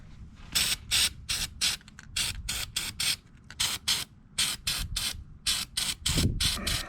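Repeated short hissing bursts of an aerosol disc brake quiet spray onto the backs of brake pads, about a dozen quick sprays in an uneven rhythm, close by, with a faint mechanical rattle underneath.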